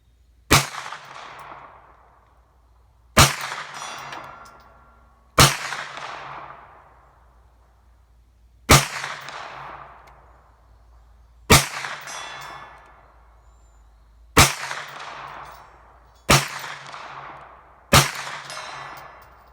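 A Hi-Point carbine fires eight loud, sharp shots outdoors at a 150-yard target, spaced a couple of seconds apart, each crack followed by a short echoing decay with quiet between.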